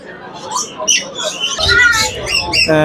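Rooster or hen at a national exotic bird show, giving harsh squawks and calls near the microphone amid crowd chatter, with a loud sustained squawk at the end.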